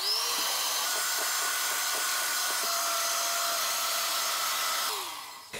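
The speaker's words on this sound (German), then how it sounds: "Zu den Eiweiß gebe ich so eine Prise Salz und werde erstmal aufschlagen." Electric hand mixer whipping egg whites with a pinch of salt, a loud continuous motor whir with a slight pitch drift, running close and steady before slowing at the end.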